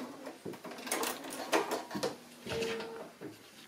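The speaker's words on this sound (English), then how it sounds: "So just sewing straight on that diagonal line across the square." A sewing machine stitches fabric strips along a diagonal line across a quilt square, with short whirring bursts and mechanical clicks between pauses, close and moderately loud.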